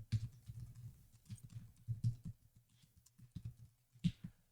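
Fast, uneven tapping on a computer keyboard, close and fairly quiet, with irregular clusters of key clicks and brief pauses between bursts.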